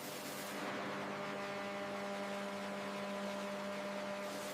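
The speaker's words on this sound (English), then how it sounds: "Vacuum unit extracting bran dust from chamber." A rice mill's vacuum unit pulls bran dust from the whitening chamber, giving a steady, even mechanical hum with faint tonal drone and no change throughout.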